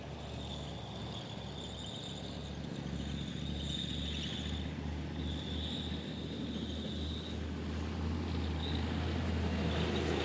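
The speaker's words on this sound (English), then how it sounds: "This has got a thumping great big MTU diesel engine. You can hear it rumbling away there" A tank's large MTU diesel engine idles with a low, steady rumble, with a high whining tone and insect-like buzzing layered above it.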